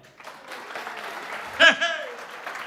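Applause from a wedding audience swells in a short burst at a Romanian wedding show while a voice talks over it.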